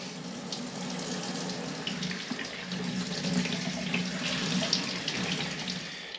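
Tap water runs steadily into a sink as wild ramps are rinsed, a continuous close splashing hiss with no voices.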